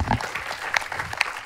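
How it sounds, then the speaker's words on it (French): Audience applauds two singers at a singing competition, a brief burst of clapping with crowd voices mixed in. "S'il vous plaît, applaudissez-les toutes les deux"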